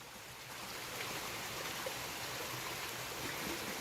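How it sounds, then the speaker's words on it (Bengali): Heavy rain runoff pouring down a hillside, a steady broadband rush of flowing water that swells slightly after the first half second and holds loud and continuous, with no voices. "বৃষ্টি নামতেছে খুব।"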